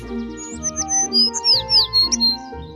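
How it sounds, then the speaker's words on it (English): A sparrow's bright, high chirps repeat in quick bursts close by, with a steady low hum and layered tones running underneath. "It's a sparrow chirping nearby."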